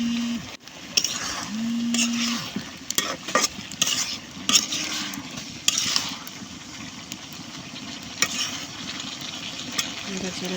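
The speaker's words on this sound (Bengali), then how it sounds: "দেখতে পাচ্ছেন নাড়াচাড়া দিয়ে দিতেছি।" Vegetables stirred into a dried fish curry on a clay stove make repeated scraping strokes against the pot over a continuous sizzle, with a cow lowing briefly near the start.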